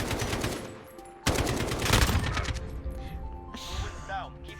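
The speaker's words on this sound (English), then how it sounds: "Ooh, AK-47" Rapid bursts of AK-47 automatic fire in the video game Modern Warfare, loud and close, with sharp repeated shots over a mix of game effects and voices.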